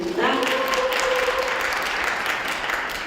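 An audience at a community media forum applauds, clapping rising quickly and continuing steadily at moderate loudness, while a speaker's voice is briefly heard at the start.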